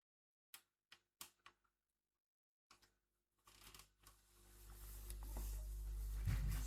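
Someone changes the battery in a computer keyboard, with a string of sharp plastic clicks and snaps followed by a rising scraping, rustling handling noise that grows louder toward the end.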